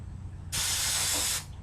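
A single steady hiss of an aerosol can spraying a light coat of grease along a bicycle chain, close and loud, lasting about a second before cutting off.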